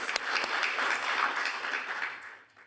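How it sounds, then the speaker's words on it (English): Conference audience at a Pacific internet governance forum session gives a round of applause after group discussion report-backs, a dense, even burst of clapping that holds steady and then tapers off at the end. "What about another round of applause for everyone?"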